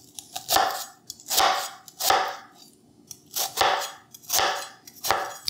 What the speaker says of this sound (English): this is where the chef's knife shines, because it has a tip for cutting this way